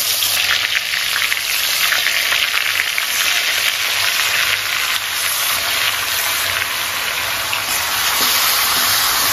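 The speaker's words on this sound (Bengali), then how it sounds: "গরম হয়ে গেছে, এবার ম্যারিনেট করা মাংসগুলো এই গরম" Marinated chicken pieces hit hot oil in a pan, producing a loud, dense, hissing sizzle that holds steady like heavy rain, close and unbroken with no talk.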